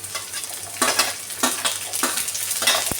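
Green beans and peas are stir-fried for vegetable fried rice, with a steady sizzle in the pan and a regular scrape of a spatula stirring about every half second, close up and without talk.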